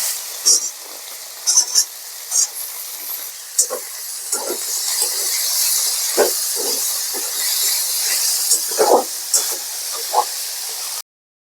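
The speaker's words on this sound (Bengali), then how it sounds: "দিয়ে এবার আলুর সাথে পেঁয়াজের সাথে এটাকে আমি ভালো করে ভেজে নেব" Potatoes, onion and carrot fry with ginger-garlic paste for vegetable pulao, a steady bright sizzle and hiss throughout, broken by repeated scraping stirs of a spoon in the pan.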